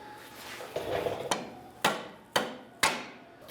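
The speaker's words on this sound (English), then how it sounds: "come in here with the pry bar between the two, between your axle shaft and transmission, and give it a couple of taps upwards" A pry bar taps upward between a CV axle shaft and the transmission of a 2003-2011 Honda Element, three or four sharp metallic knocks after some scraping, close and clear with no talk.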